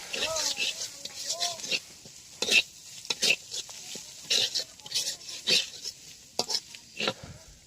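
Spice paste of ground onion and chilli with salt and turmeric being stirred and fried in a pan: sharp spatula scrapes and knocks at uneven intervals over a soft sizzle, with a person talking near the start.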